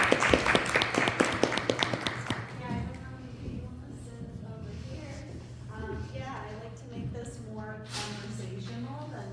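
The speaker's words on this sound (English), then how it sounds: "let's welcome her with a little applause" A small audience claps in brisk welcome for someone speaker for about two and a half seconds. The applause then fades as she begins talking over a steady low hum.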